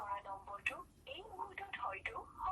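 A phone call fails to connect because the handset is switched off. A faint, thin, line-filtered recorded voice message plays over the phone for a couple of seconds.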